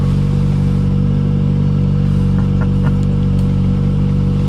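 A restored BMW E30 M3 Evo engine idles at around 1000 rpm, a steady, close, even hum with a low rumble and no change in pitch.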